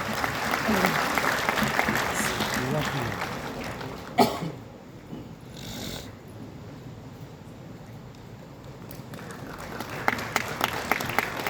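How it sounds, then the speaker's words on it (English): Applause for award winners at a World Youth Skill Day ceremony, starting loud and dense, thinning into softer scattered clapping with a sharp bang midway, then swelling again near the end. "So a big round of applause for all our winners,"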